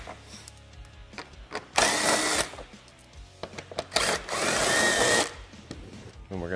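Power driver on a Polaris RZR Pro XP front bumper, backing out four T40 screws from the center section, sounds in two loud sustained whirring bursts separated by quieter handling noise and brief talk.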